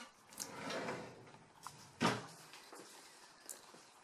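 Small drawers in a newly assembled IKEA furniture unit are worked in a quiet room: several soft slides and light knocks, one sharper thud near the middle, all close and faint.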